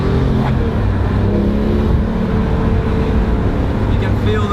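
A 500-horsepower rear-engined Porsche 911R with a manual gearbox accelerates under load, a steady loud engine roar with rising harmonic tones, heard from inside the car, with a voice faintly over it.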